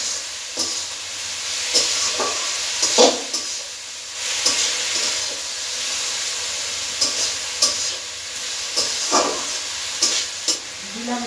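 Chicken pieces frying for a chicken curry in a village kitchen, a steady close sizzle with repeated scraping stirs at irregular intervals, no voices over it.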